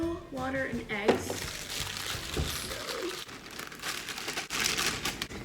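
Oil and water are poured into cake mix in a home kitchen, giving a continuous liquid pour with crinkling packaging sounds, close and moderately loud, with brief voice fragments at the start.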